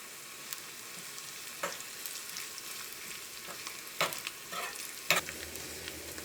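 Shallots and curry leaves fry in oil for a sambar tempering, a soft, close sizzle punctuated by a few sharp pops and spoon scrapes, with no talk.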